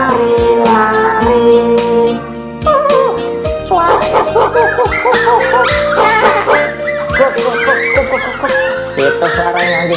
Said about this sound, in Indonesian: Itu suara anjingnya.